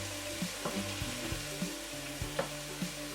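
Onions fry in hot oil over a medium flame, a soft continuous sizzle and crackle with small periodic bumps of stirring, quiet and close with a low steady hum beneath.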